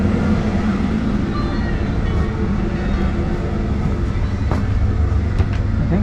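A modern train in Bosnia and Herzegovina between Sarajevo and Mostar rumbles steadily from inside a carriage, a loud continuous low roar with faint rattles and no talk.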